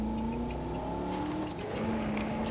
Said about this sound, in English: Handbrake turn.